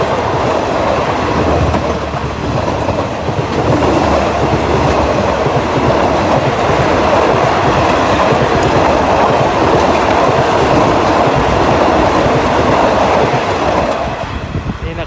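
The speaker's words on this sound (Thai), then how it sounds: "หัวรถจาก GA 4542นะครับทำขบวน รถเร็วที่ 172 นะครับ ต้นทางสุไหงโกลกปลายทางกรุงเทพนะครับ" Locomotive GEA 4542 hauling rapid train 172 from Sungai Kolok to Bangkok, a loud, steady rumble of rolling wagons with continuous clickety-clack, passing close by for the whole stretch.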